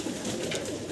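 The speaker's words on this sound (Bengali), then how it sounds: "নাম কি এই কবুতর? সিরিয়ান কবুতর।" A Syrian pigeon cooing at a large pigeon farm, a low soft murmur under steady background noise, brief and continuous.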